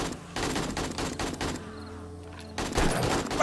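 Rapid bursts of gunfire from shooting in the zombie survival video game 7 Days to Die, loud and close, broken by a short lull before another volley.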